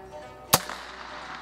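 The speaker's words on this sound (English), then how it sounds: "So we'll give them a couple shots." A single sharp gunshot from a Heritage Rough Rider Buntline .22 revolver with a long barrel, fired outdoors at cans and swinger targets, cracks loud and close, then trails off into a brief fading echo.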